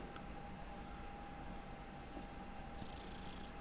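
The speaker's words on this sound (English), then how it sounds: "Another cat!" Cat purring in the video game Hogwarts Legacy, a soft continuous rumbling purr under a faint steady hum, quiet and even throughout with no voices.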